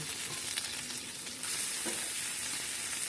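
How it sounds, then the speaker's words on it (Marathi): Dried vakti fish crackles loudly in hot oil in a pan, a dense continuous sizzle that surges as more pieces go in, close and without voices. "आता ही वाकटी एक एक करून ॲड करूया. हे लगेच फ्राय होतं"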